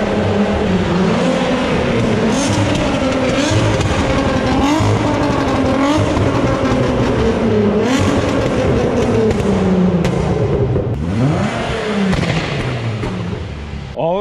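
A Volkswagen Golf 2 fitted with a 3.6-litre R36 engine of 340 hp revs loudly and continuously, the note rising and falling through sweeping pitch changes, with occasional voices in the background.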